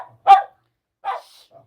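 Two sharp barks from a dog indoors, spaced nearly a second apart, close and fairly loud, the second a little softer and followed by a faint trailing yip.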